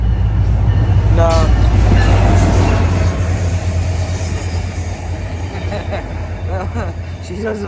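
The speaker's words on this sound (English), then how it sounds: "Is this a freight train?" A train rolls past close by, its rumble loud at first and then easing off, with wheels squealing and clacking over the rails while people talk over it.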